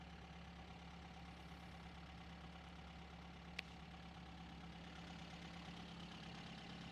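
Engine of a 1953 Sunbeam Alpine Mk 1 idling smoothly just under 1,000 RPM, a low steady chug heard from a little distance, with one brief click midway and no talk.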